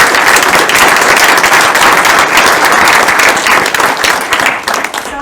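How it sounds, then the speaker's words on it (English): Loud, sustained applause from a large audience after an indie game panel in Nova Scotia, dense clapping filling the whole stretch and tapering slightly near the end. "A round of applause for our fantastic"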